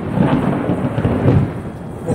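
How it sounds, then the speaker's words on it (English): Thunder from a lightning storm rolls in a loud, deep continuous rumble, swelling and fading over a couple of seconds with rain hissing underneath and no voices. "with a little lightning and thunder here."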